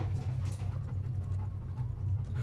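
A bomb-sniffing dog searching a cruise ship pants in quick rhythmic breaths, close and steady throughout the short stretch, with faint soft whimpering and no one speaking.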